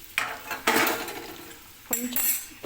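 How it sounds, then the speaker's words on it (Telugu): Chopped bitter gourd is tipped into a pan for a sugar-free dish, giving a few clattering scrapes of utensil against metal in short bursts, close by, with no talk. "ఈ కోసి పెట్టుకున్న కాకరకాయల్ని ఇలా వేసి"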